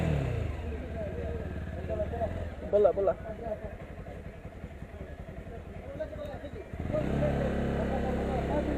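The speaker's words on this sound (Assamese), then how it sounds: "এতিয়া অলপ NS2 চলাওঁ" Bajaj Pulsar NS motorcycle engine while riding, a steady mid-pitched hum with a brief rev and a dip before rising again, while a rider speaks briefly over it.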